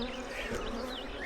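Honey bees buzz in a dense, continuous drone, close and steady, during a beehive inspection.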